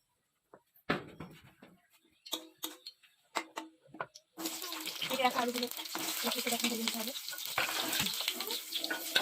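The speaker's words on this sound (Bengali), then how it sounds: "সর্ষের তেল গরম করে আলুগুলোকে ভালোভাবে ভেজে নিতে হবে" Potatoes frying in hot mustard oil: a few scattered pops and crackles at first, then a loud, steady, close sizzle that continues to the end.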